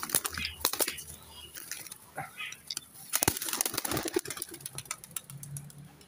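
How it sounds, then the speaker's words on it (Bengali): A fantail-type pigeon released by hand to fly at a pigeon loft in Barrackpore gives soft, irregular wing flaps and rustles, faint and close, amid quiet talk. "নেক্সট পায়রা ওড়াচ্ছি, একটা ফুলশিরা পায়রা ওড়াবো"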